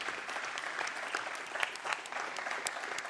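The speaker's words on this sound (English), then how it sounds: "give yourselves a round of applause for all the good things that you do." Audience at a programming conference applauding, a dense, steady patter of many hands clapping together for a few seconds without any talking.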